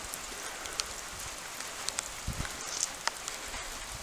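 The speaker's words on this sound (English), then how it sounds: "It's raining here, and it's been raining and raining" Steady rain patters continuously, with a soft hiss and scattered individual drops ticking nearby.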